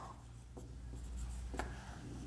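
Faint scratchy strokes of writing on a board during a physics lesson, a few short marks against quiet room hum with no talk.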